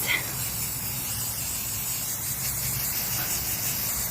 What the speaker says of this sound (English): spray painting my lovely butterflies